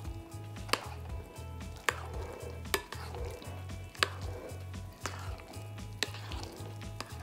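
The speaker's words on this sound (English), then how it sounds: "and mix it in." Guacamole being mixed by hand as salt, pepper and chopped fresh cilantro are folded in, with steady rhythmic scraping and stirring strokes and a few sharp clicks of utensil against bowl, close and moderately loud.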